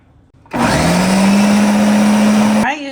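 Kitchen blender running at full speed, whirring steadily as it mixes pumpkin pie filling with cloves, spices and eggs, starting abruptly after a quiet moment and cutting off near the end.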